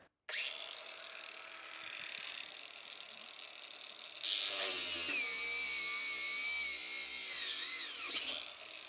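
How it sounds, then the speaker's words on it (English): An angle grinder bites into the old parking brake cable of a 1950 Buick, a steady whine rising sharply into a louder, harsher cutting screech partway through, with a brief spike near the end. "Let's see if we can get the grinder to nip it out of there."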